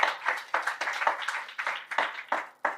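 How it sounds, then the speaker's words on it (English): Audience at a Kenya–UK strategic health partnership conference applauding in a hall, a steady patter of many hands clapping with irregular louder bursts, fairly close and without talk. "Another round of applause."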